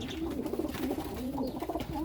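A Serbian Highflyer pigeon coos close by in a low, throaty, repeated rolling burble lasting a couple of seconds, with no talking.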